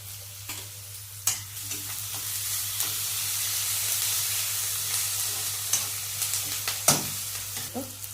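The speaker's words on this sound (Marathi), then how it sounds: "आता कांदा सारखं भाजून घ्यायचं" Chopped onion fries in a hot pan while a spoon stirs it, producing a steady close sizzle with intermittent scraping and clinking strokes against the pan, no voices present.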